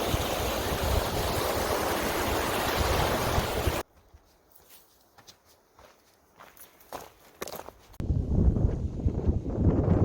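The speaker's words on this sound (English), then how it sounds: "A bit windy up here." Loud gusts of wind roar across the microphone atop North Kananaskis Pass in the Rocky Mountains, break off into near silence with faint footstep-like crunches, then the roaring wind returns.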